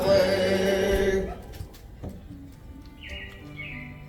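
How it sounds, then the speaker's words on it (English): Animatronic robins chirp in the Carousel of Progress show at Magic Kingdom, Walt Disney World: music fades out, then short high tweets and trills sound at moderate level. "It looks like the Robins are getting ready to celebrate Valentine's Day today."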